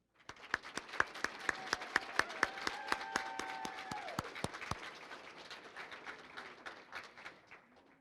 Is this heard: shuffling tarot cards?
no